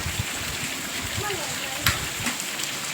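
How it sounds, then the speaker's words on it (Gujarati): Steady monsoon rain falls outside a home gallery, a continuous soft hiss with a few louder drops and splashes, while a person talks over it. "આ જ રીતે એક ધારો વરસાદ છે."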